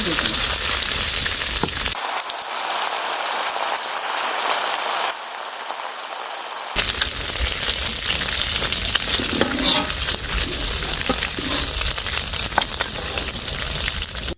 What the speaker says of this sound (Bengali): মাংসটাকে ভালো করে নাড়াই নিতেছি।